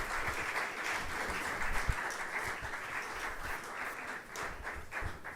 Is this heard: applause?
yes